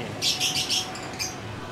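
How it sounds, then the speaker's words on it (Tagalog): A bird chirps in a quick series of high, bright notes over a low background hum. "Mga ibon."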